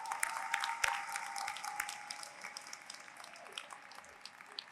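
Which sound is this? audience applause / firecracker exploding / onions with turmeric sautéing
audience applause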